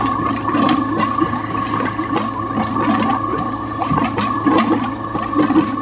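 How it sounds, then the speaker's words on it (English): Antifreeze gurgles and splashes out of a boat engine's raw-water strainer while the pump runs, a steady watery churn with mechanical rattling underneath, close and continuous throughout. "So I'm gonna pour antifreeze into this strainer while the pump's on. It still starts spewing antifreeze out."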